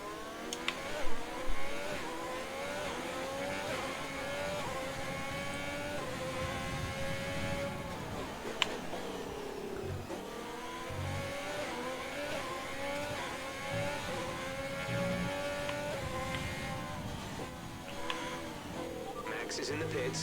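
A Formula 1 car in the racing game F1 2020 screams around a lap, its engine pitch climbing and dropping through repeated gear changes, continuous and loud beneath a person talking.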